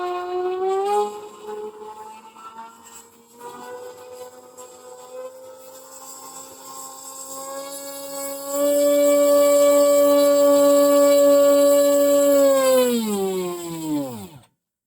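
Twin electric motors on an AtomRC Dolphin twin-engine RC plane spin up, their whine climbing and holding at a loud steady pitch, then winding down quickly at the end.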